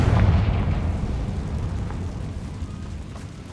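A Confringo spell explodes in Hogwarts Legacy, a heavy, booming blast that opens loud and deep and then rolls into a long, slowly fading rumble.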